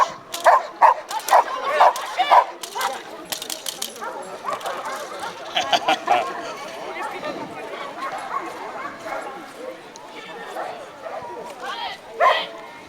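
A 15-month-old black Belgian Malinois barks and yips in quick bursts during bite training, excited and close, while people talk around it.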